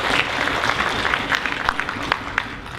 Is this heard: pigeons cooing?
no